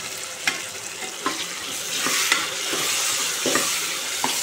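Tomatoes frying in hot oil for khichdi, with a steady sizzle and irregular scraping knocks as they are stirred in the pan, close and moderately loud, with no talk.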